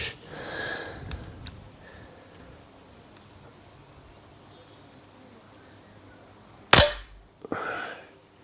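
A Weihrauch HW40 PCA .177 air pistol fires a pellet: one sharp, loud crack near the end, followed by a quieter metallic thump, after a long hushed stretch with faint breaths and small handling noises.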